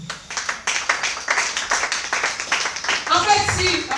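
A church congregation claps in praise of the Lord, a dense run of overlapping handclaps filling four seconds with voices mixed in.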